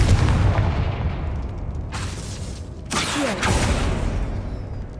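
Confringo fire spell blasting in Hogwarts Legacy, a heavy booming impact over a low rumble, then a second burst of crackling debris, loud and close with no talking.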